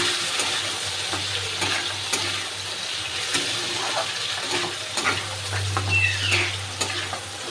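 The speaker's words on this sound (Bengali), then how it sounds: "এবার আমি মাংসটা দিয়ে দেব" Mutton pieces sizzle loudly in hot oil in a pan for curry, a constant crackling fry broken by scraping stirs and a few knocks of a utensil.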